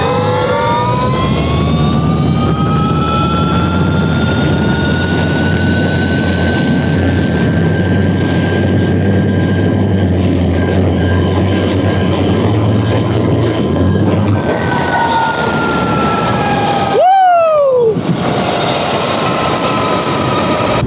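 Sur-Ron electric dirt bike with a 72v 50ah lithium battery on a speed test: a loud, steady high-pitched motor whine rising slowly in pitch under continuous wind roar, then a brief sharp pitch sweep near the end.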